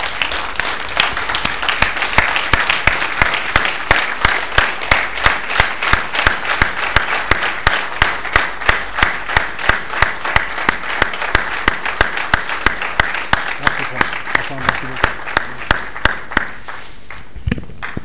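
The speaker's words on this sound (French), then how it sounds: "je voudrais au préalable que l'on puisse se lever et applaudir véritablement cette belle leçon que le professeur vient de nous livrer" A lecture-hall audience at an academic tribute ceremony stands and applauds after a professor's lesson, dense loud clapping that settles into a rhythmic, in-unison beat, sustained for many seconds before tapering off.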